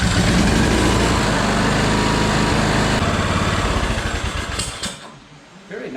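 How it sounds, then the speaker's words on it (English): A Craftsman LT2000 42-inch riding mower engine fitted with a new carburetor runs loud and close with a rough, steady small-engine roar that then drops in the last seconds as it winds down toward idle. "I want to make sure it's actually going to start and idle and do what it's supposed to do with the new carb on it."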